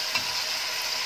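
Meat and onions sauté in a pot as the base for a dried bean stew, giving a steady, close sizzle with light stirring, no voices.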